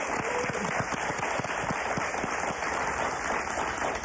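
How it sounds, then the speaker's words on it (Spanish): A television studio audience claps for a Mexican singer about to present his song, a brief, moderate burst of scattered hand claps over steady background noise. "Un aplauso para él, por favor."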